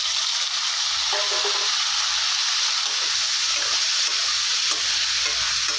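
Chopped onions and tomatoes sauté in a hot pan for a chutney, giving a loud, steady sizzle with occasional soft scraping of a stirring utensil and no talking.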